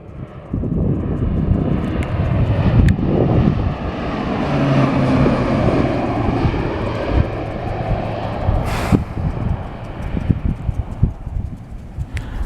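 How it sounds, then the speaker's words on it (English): A crop-duster fertilizer plane flies low over a beet field, its engine a loud, steady drone that holds throughout as it passes near, with rustling outdoor noise beneath. "that crop duster's, I guess that fertilizer plane's just crop dusting that beet field"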